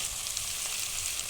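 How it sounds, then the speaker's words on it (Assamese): Onions sizzle steadily in hot oil in a pan as they brown for a chicken curry, a close, constant crackling hiss with no talking. "পিঁয়াজখিনি এতিয়া ব্ৰাউন কালাৰ হোৱালৈকে ভাজি থাকিম"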